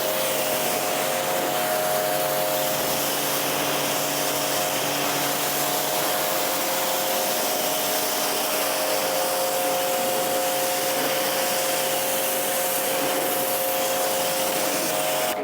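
Pressurized water spray rinses foam off a car, a steady close hiss of rushing spray with a faint tonal whine underneath, continuous and unbroken throughout.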